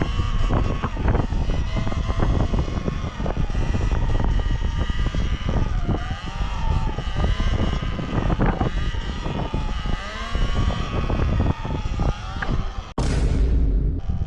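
An electric motorbike wheelie, heard as a continuous motor whine that rises and falls in waves alongside rolling tire and wind noise for most of the stretch, ending with a sharp thump near the end.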